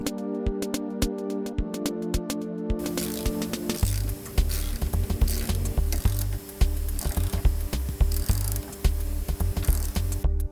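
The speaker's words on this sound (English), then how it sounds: "Let's thread the new one in and then tighten it down." A wrench tightens a new tie rod on a VW Bus's steering, first with rapid sharp ratcheting clicks, then a series of close, uneven mechanical clanks and knocks as the part is worked down, with no voices.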